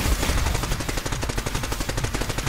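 Rapid automatic gunfire from weapons in a shooter video game, loud and continuous, with dense overlapping bursts and no pauses.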